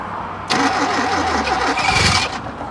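A neglected Lada VAZ car under restoration is cranked with the starter and catches, giving a loud close-up churn that settles into a rough, steady running engine.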